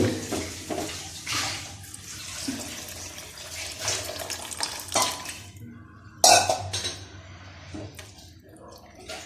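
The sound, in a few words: pouring water into a pan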